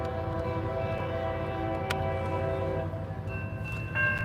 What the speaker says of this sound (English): Looks like 3-4 CSX locomotive.